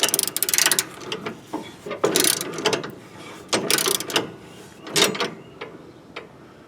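A ratchet with a 15 mm deep socket works a bolt on a John Deere LT-series mower deck, giving close, loud bursts of rapid clicking in several separate strokes with short pauses between.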